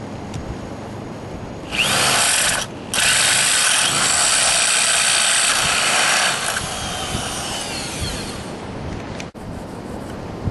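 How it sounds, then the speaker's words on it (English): A power drill with a 1 1/8-inch butterfly bit bores into agave wood with a loud high-pitched whine, pausing briefly once, then winding down to a quieter hum before stopping. "I use an 1 1/8" butterfly bit to drill the hole for the center of the mouthpiece."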